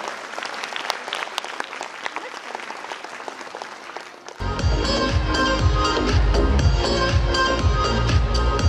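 Parents applaud at a St. Anthony School annual day: dense, steady clapping fills the hall for about four seconds, then loud music abruptly takes over and continues to the end.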